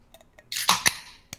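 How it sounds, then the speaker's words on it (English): A Michelob Ultra beer can cracks open: a few faint clicks, then a sharp snap and a hissing burst of fizz, followed by a second quick pop, close by with no talk. "I'm going to start my week off by cracking this beer."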